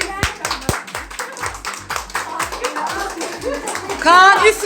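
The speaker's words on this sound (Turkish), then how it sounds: "Alkışlayın." A few people at a small home gathering clap their hands in quick sharp bursts, close and irregular, with voices talking and laughing over the claps.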